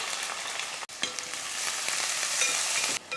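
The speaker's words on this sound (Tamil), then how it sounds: "வெந்தயம் பொரிஞ்சதுக்கப்புறம் கொஞ்சம் கருவேப்பிலை கூடவே வெங்காயத்தை சேர்த்துடலாம்" Onions frying in hot oil with fenugreek seeds and curry leaves, a steady, close sizzle and crackle with a stirring scrape or two, and no voices.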